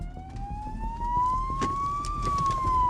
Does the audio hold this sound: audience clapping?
no